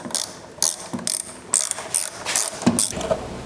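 Hand ratchet working a bolt loose on a Honda XRV750 Africa Twin motorcycle, a series of close, sharp clicking bursts in an uneven back-and-forth rhythm with no talk.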